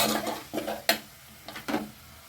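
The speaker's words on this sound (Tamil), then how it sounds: "தக்காளி ஒரு கிளறி" A spoon stirs tomatoes in a pan while potato masala is cooked, a few quiet, short scraping strokes and clinks against the metal with no talking.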